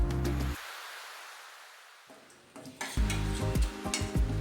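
Coriander seeds, cumin, urad dal, chana dal, fenugreek and mustard seeds fry in oil in a pan, a soft crackling hiss that drops away to near silence partway through, then returns with scraping and stirring clatter.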